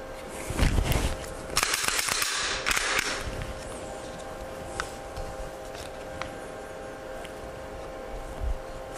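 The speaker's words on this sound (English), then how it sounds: "First, let me clear my pistol." A pistol being cleared at a holster-training range, with a few sharp metallic clacks of the slide racking near the start amid faint handling noise and quiet room tone afterward.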